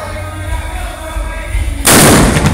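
Low rumbling background suddenly broken by a single loud, sharp firework blast, followed by a dense crackling roar that stays loud to the end, at the São João festival in Alto do Moura, Caruaru.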